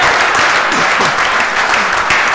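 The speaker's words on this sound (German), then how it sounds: "Da klatschen die Männer und die Frauen." An audience at a German poetry slam claps loudly and steadily, a dense wash of hand claps that runs the whole time with no voices heard over it.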